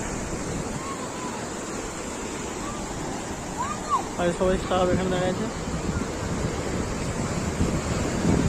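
Big sea waves break at Mandarmani beach in a steady, continuous roar of surf mixed with wind, while someone talks briefly partway through.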